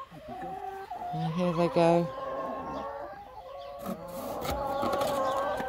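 Backyard hens cluck and murmur close by, a run of soft throaty calls with a few louder squawks, while someone speaks briefly over them.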